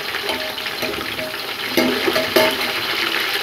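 Meat and marrow bones sauté in a pot with onions for Karachi-style nihari, giving a loud, continuous sizzle and hiss broken by a few sharper stirring clatters.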